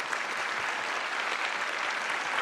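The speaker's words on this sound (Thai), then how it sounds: "ปรบมือหน่อย" Studio audience applauding on a Thai television singing competition show, a dense, even wash of clapping that holds steady throughout the short stretch.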